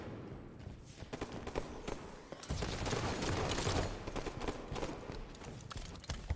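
Dense, rapid gunfire rattles through a competitive shooter match, bursts overlapping with no pause, swelling louder midway and continuing to the end with no talk.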